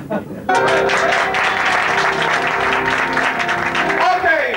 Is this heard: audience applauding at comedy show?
yes